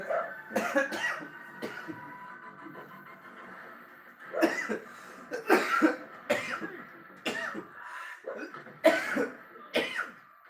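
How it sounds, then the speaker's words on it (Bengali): A person coughs repeatedly in uneven bursts, some single and some in clusters, close and fairly loud, with quiet pauses between. "ওষুধটা খাও তাহলে কাশিটা একটু কমবে"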